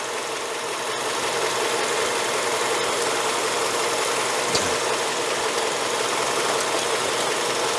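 A car engine idles in a steady, even drone, heard up close with a faint knocking texture and a brief small clunk partway through. No one speaks.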